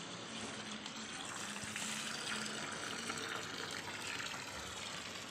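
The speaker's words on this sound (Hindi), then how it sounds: "और अब हम सभी पेड़ पौधों में पानी दे देंगे।" Water gushes steadily from a hose or pipe onto garden trees and plants, including a curry leaf tree, a faint continuous outdoor splash with no talk.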